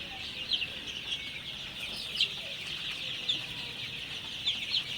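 Thirteen-day-old Sonali super hybrid chicks fill a poultry shed with a constant chorus of high, thin peeping as they spread out and drink water, with sharper individual cheeps standing out now and then.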